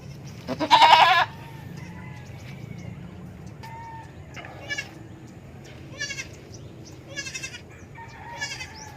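A two-day-old newborn goat and its mother bleat on a farm: one loud, close bleat near the start, then several fainter, shorter bleats scattered over quiet background noise.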